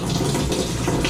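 Washing machine's newly replaced water inlet valve filling the drum with cold water: a steady, close rush of running water, loud and continuous for the whole moment, with no talk.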